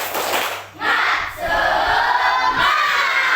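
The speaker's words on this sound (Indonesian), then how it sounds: "kita tepuk semangat dulu" Elementary school pupils in a fifth-grade religion lesson stand and perform a rhythmic spirit clap while chanting together in unison, loud and close, filling the classroom.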